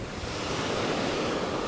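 Ocean surf breaks along the beach at Cayo Santa Maria as a continuous broadband wash of waves, mixed with wind buffeting the microphone.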